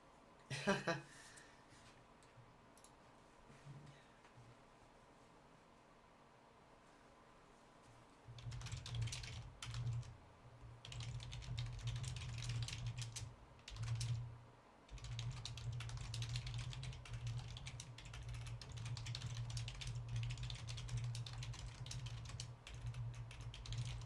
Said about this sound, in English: All that typing you can hear